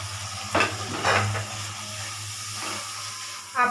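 Spices with mustard paste, a little water, salt and turmeric sizzle and get stirred in a pan over medium gas for vegetarian chow mein, with a steady close frying hiss and several louder stirring scrapes.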